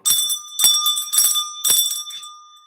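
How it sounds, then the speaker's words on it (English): A bell rings in four bright metallic strikes, each hit ringing on with a sustained tone that slowly fades after the last stroke; no talking over it. "Where's my bell?"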